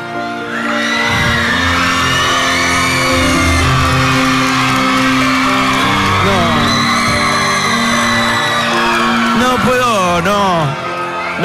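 A large studio audience at a televised dance competition final roars, whoops and shouts for a dancer, a loud continuous wall of crowd noise with cheers and yells rising and falling throughout.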